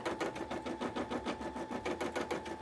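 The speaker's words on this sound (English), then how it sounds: "So much stitching, huh? So busy." An embroidery machine stitches at a rapid, even mechanical pace, its needle punching out a close, buzzy rhythm that runs without pause and with no talk.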